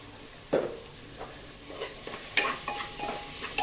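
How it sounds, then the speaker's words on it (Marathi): Onion sautéing with salt in a pan for a village-style onion and potato curry, crackling in bursts with scraping stirs, including a sharp first sizzle and a louder stir later, close up with no talking. "कांदा आपल्याला परतायला घातला"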